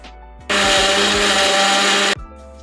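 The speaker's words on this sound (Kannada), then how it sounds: "ಎರಡೂ ಕೂಡಿಸಿ ನುಂಪಕ್ಕೆ ಬೀಸ್ಕೇಳೋ ಈಗ" A kitchen mixer grinder whirs loudly for about a second and a half, grinding masala with grated coconut, starting abruptly and cutting off sharply with a short rattle of the jar before and after.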